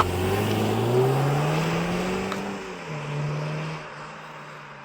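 A BMW G20 320i exhaust in Sport+ mode, a loud, close engine note that climbs in pitch as it revs, drops back, then rises again before easing off, with no talking.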